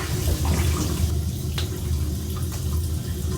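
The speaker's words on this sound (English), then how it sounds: "My warm water rinse right now." Warm tap water runs steadily into a sink for a face rinse, with a faint patter and a few splashy changes as hands cup and splash the stream; no one speaks.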